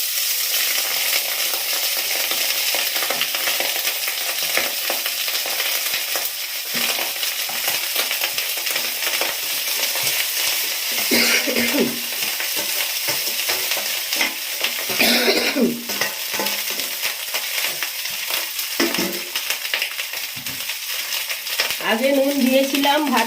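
Cooked rice is stirred into sizzling fried ingredients in a pan for lemon rice: a constant close frying hiss broken by scraping, clattering stirs of the spatula, with no talking.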